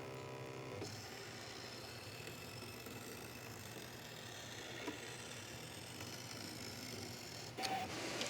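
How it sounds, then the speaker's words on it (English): A fabric cutting machine runs steadily as it cuts out material, a faint continuous mechanical hum and whir with a brief louder clatter near the end, no voices. "It'll just take it a minute to cut out."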